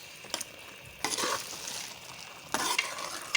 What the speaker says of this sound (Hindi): अच्छे तरीके से इनको मसाले के अंदर भूनना है।